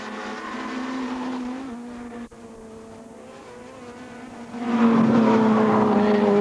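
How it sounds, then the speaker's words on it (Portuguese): BMW touring cars racing in a 2008 World Touring Car Championship round: sustained engine drone at steady pitch, swelling louder near the end as cars pass close, with a brief dip midway. "Coloca o seu BMW à frente e consegue a ultrapassagem a Ricardo Raidel"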